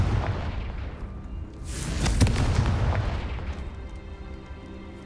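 Confringo, the fire spell in Hogwarts Legacy, goes off as a booming blast with a sharp crack, then a low rumbling roar that fades over game ambience.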